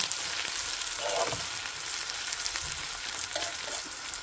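Sliced green chilies frying in hot oil in a pan, a continuous close hiss and crackle of sizzling with a few faint stirring scrapes, with no talking.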